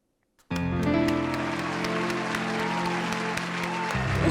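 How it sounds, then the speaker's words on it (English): Sustained applause from an audience, steady and fairly loud, starting abruptly after a brief silence and continuing without a break to the end. "Round of applause."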